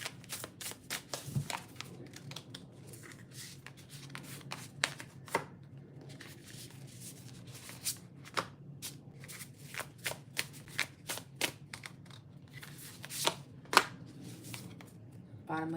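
Tarot cards are shuffled repeatedly up close, a run of soft riffling and sharp flicks and taps in irregular bursts over a low steady hum.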